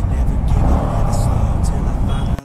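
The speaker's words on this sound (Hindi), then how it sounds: "इसी एग्जॉस्ट में इतना मज़ा आ रहा है।" A Yamaha MT15 motorcycle with its stock exhaust gives a steady, loud, low engine rumble while riding, heard close with wind noise and someone talking over it.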